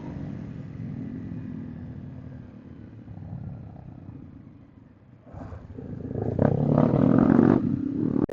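Seven motorcycles ride a rough, dusty road together, their engines rumbling low at first, dipping briefly, then swelling into a louder, throatier roar as they rev and push ahead.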